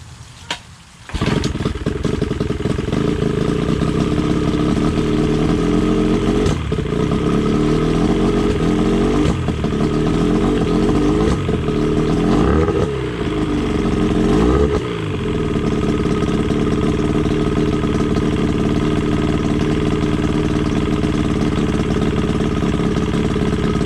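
A 1992 Johnson 25 hp outboard motor starts up and settles into a steady, loud idle close by, running continuously with a few slight surges, freshly rebuilt and not pumping water through its telltale.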